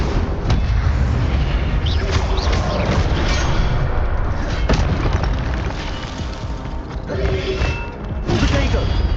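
Spell blasts of the Incendio fire charm in the video game Hogwarts Legacy, repeated booming bursts and crackling impacts layered over continuous dense combat noise and music, loud and close throughout.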